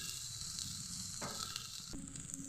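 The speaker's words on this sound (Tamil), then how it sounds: "எல்லாத்தையும் சேர்த்து நல்லா வதக்கியாச்சு." Turkey berries, onion, tomato and grated coconut sautéing in a pan, a steady close sizzle with a couple of brief stirring scrapes and no talk.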